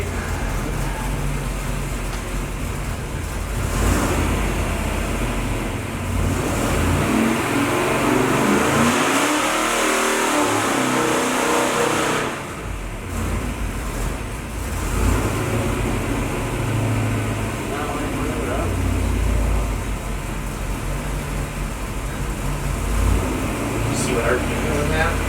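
A 384 Oldsmobile engine in a time attack build runs on a dyno, a loud sustained roar that swells through a hard rev, dips, then carries on at high output, with voices faintly underneath.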